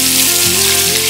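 Sea snails stir-fry in a hot pan with a little water, producing a loud, continuous close-up sizzle.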